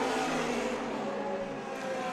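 Vintage race cars braking and downshifting into turn 11 at Laguna Seca, a dense, fairly loud engine snarl that sustains briefly with shifting pitch.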